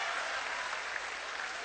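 Comedy show audience claps together in a steady, even burst of applause, moderately distant and filling the room briefly.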